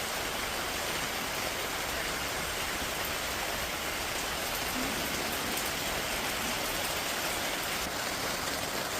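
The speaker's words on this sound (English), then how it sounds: "Lots of buckets, lots of rain, lots of mud." Heavy rain pours steadily, a dense hiss of drops hitting surfaces close by, constant and unbroken.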